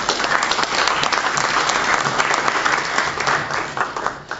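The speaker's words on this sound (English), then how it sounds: "let's give them a round of applause" An audience at an evening gathering claps steadily for performers called up on stage, a dense, even wash of applause lasting throughout without a break.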